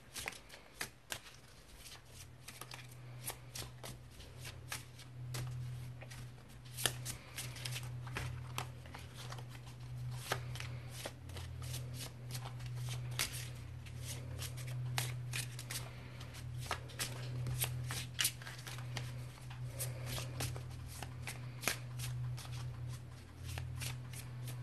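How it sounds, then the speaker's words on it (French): Oracle cards are shuffled by hand over a long stretch: a steady riffle of soft papery flicks and slides with occasional sharper snaps, close and quiet over a low background hum. "Je vais remélanger."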